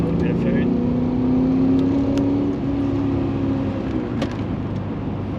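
Car fitted with a 3-inch exhaust pulling hard in third gear, a steady droning engine note with a rising tone held throughout, close and loud, with people talking over it.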